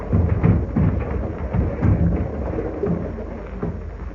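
Storm and hurricane sound effect from an old radio drama, a continuous low roaring rumble of wind and rain with repeated heavy thuds and surges, loud and steady throughout with no voices.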